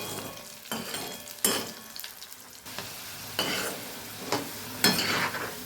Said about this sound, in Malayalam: ഒരു ഒരു മുക്കാൽ ഫ്രൈ അതുപോലെ നമുക്ക് വറുത്ത് കോരണം